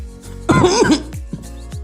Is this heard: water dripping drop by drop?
no